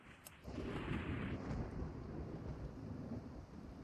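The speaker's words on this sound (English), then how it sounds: "And it's raining." Steady video game rain hisses softly with a low rumble of thunder rolling beneath it, distant and continuous.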